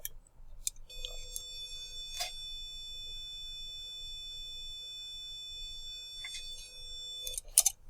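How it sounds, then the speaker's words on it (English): A steady buzzy 500 Hz square-wave tone from a small speaker driven by a microcontroller's port C pin 0 under Timer2 interrupts, starting after a second and droning on evenly, with a few sharp clicks scattered through it. "I generate a frequency that's 500 Hertz"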